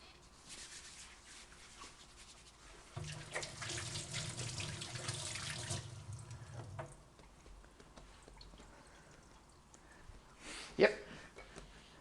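A kitchen tap runs steadily for a few seconds while hands are washed beneath it, a close, hissing flow of water that stops abruptly, with a voice speaking and a dog sounding at times.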